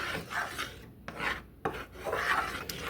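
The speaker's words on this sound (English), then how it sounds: "Just make sure you keep stirring up your garlic." Garlic is stirred in melting butter in a cooking pan: quiet scraping and rubbing strokes of a utensil come in short repeated passes with brief pauses between them.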